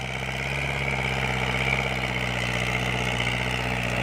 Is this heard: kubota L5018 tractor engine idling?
yes